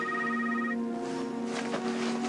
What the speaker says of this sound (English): It's Ronan's phone